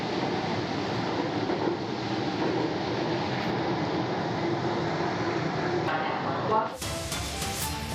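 Bangalore metro train running, a steady loud rumble and rush of the carriage in motion that shifts abruptly near the end, as if braking or passing into a different section.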